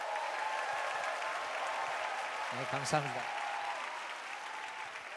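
Audience applause and cheering at a church revival meeting in Busan, welcoming a missionary to the stage; steady crowd clapping fills the clip while someone speaks briefly over it.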